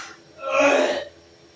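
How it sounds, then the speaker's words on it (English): A single short, harsh throaty cough bursts out close to the mic, with quiet room tone before and after. "Rev is coughing off a lung"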